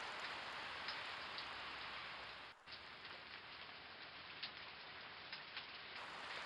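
Rain falls steadily as a dense, continuous hiss of drops, even and fairly loud throughout, with one very brief dip partway through.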